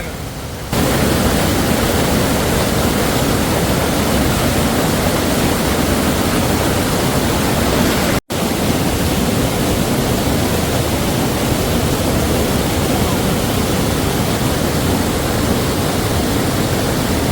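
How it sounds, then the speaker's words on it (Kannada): Hosgod waterfall in Karnataka, running high with heavy water, gives a constant broadband roar that fills the whole clip loudly and evenly, broken only by one momentary dropout, with no voices heard. "ನೋಡಿ ಅಲ್ಲಿ ಕಾಣಿಸ್ತಾ ಇದೆ ಅಲ್ಲಿ ಫಾಲ್ಸ್ ನೋಡಿ."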